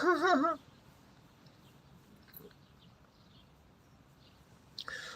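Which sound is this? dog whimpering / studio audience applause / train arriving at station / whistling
dog whimpering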